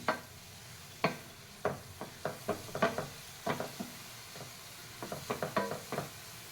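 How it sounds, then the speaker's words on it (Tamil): Carrots cooking in milk for carrot halwa are stirred with a spoon in a pot, a series of distinct scraping knocks at irregular intervals over a faint bubbling simmer, close and clear. "பால் இந்த கேரட் இதில் வேகணும் நல்லா கிளறிக்குங்க"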